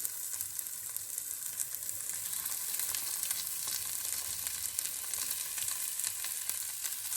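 Beef rouladen fry in oil in a Teflon pan, a steady, fairly faint crackling sizzle that runs evenly throughout with no voices.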